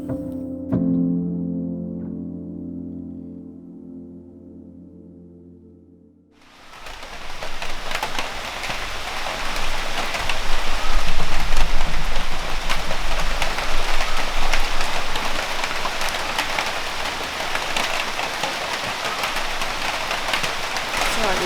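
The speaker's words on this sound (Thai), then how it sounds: "ตอนเช้าเช้ามาฝนตกด้วย ตกตั้งแต่แบบตีห้าเลย" Steady morning rain falls continuously and fairly loudly, starting abruptly after several seconds of quieter tonal sound and then holding as a dense, even wash.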